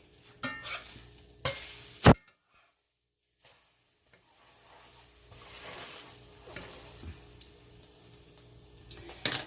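Eggs fry until well done in a pan, a soft sizzle broken by loud utensil clatters and scrapes, with a brief near-silent pause partway through.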